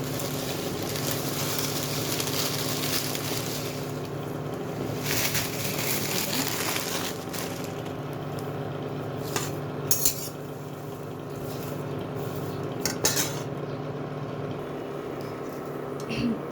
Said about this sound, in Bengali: সেমাইটা আগে ঘি দিয়ে একটু ভেজে নিই